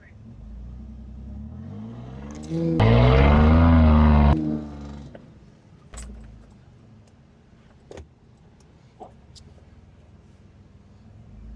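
A truck engine revs hard for about a second and a half as the truck is pulled out at a Daytona Beach truck week event. A loud roaring burst sits amid outdoor background noise, with voices talking before and after.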